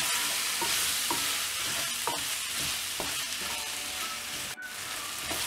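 Prawn and quail egg curry base stirred in a pan: a steady close sizzle runs throughout, broken by periodic scraping strokes of the spoon against the pan.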